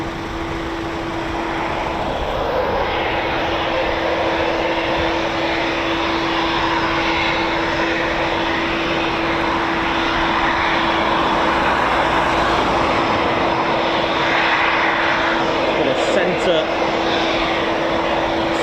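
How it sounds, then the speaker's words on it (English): A Eurofighter Typhoon FGR4 taxiing at RAF Coningsby gives a steady, loud jet roar with a constant whine that holds through the whole stretch, while people talk over it. "I can hear a Foon taxiing."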